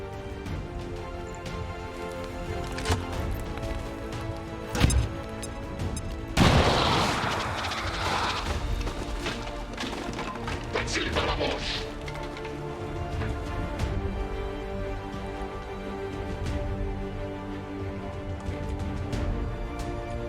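Combat sounds from the XCOM 2 strategy video game, a grenade launch and gunfire, with sharp bursts and a loud explosive rush near the middle that fades into a lingering crackling tail.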